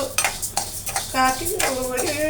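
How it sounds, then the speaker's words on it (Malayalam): About 200 grams of dry rice is tipped into a heated frying pan for roasting, giving a close burst of rattling, scraping clatter against metal with a few brief tonal scrapes. "അപ്പോൾ അതിനകത്തോട്ട് ആദ്യം നമുക്ക് ഈ അരി ഇട്ടാം."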